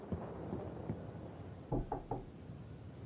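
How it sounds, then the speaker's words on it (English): A thunderstorm with rain plays as a faint, low rumble under a steady patter, broken by a few dull thumps that come in a quick cluster near the middle; no one speaks. "All of a sudden, here's another storm."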